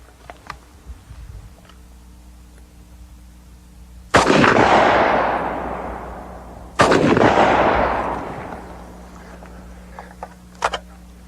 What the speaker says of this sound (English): Now we're going to shoot right at the gas tank so we know we hit it.